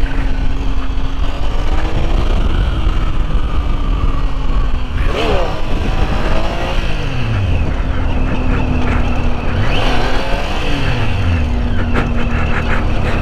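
A Triumph Tiger 800 XC motorcycle engine revs and rises in pitch through repeated wheelie runs, its loud, close tone sweeping up and down while steady wind noise sits underneath.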